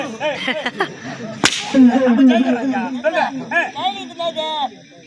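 A whip cracks once, sharp and near, during a Tamil clown comedy stage drama, with loud comedic talk running before and after it.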